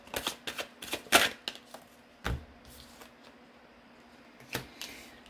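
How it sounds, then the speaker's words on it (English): Tarot cards being shuffled by hand during a reading, giving a series of quick papery riffles and taps, the densest burst near the start, then scattered soft flicks over quiet room tone. "One more shuffle."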